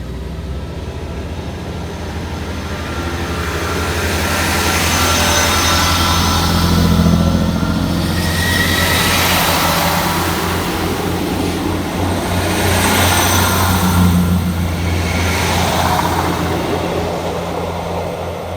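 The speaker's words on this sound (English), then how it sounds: "we see the departure of 158-850 and 158-872 working the 16:13:42 Northern service from Leeds through to Wigan Wallgate" Two coupled Northern class 158 diesel units leave Mirfield railway station on a Leeds to Wigan Wallgate service. Their engines drone steadily and grow loud as they pull away, then the sound swells again and eases off.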